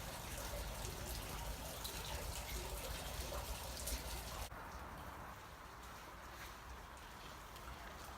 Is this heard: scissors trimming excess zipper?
no